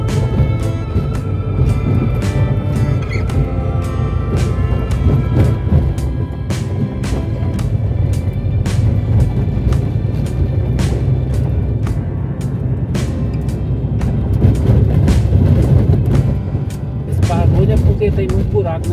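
A car driving over a potholed stretch of road MGT 342 in Minas Gerais rattles and knocks repeatedly at the rear in sharp irregular bangs over a loud road rumble, while people talk.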